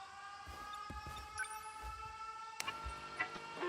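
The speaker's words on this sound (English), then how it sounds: "Air raid alarms have been sounded." Air raid alarm sirens in the video game 13 Sentinels: Aegis Rim hold a steady harmonic drone, with low thuds and clicks scattered through it and no speech.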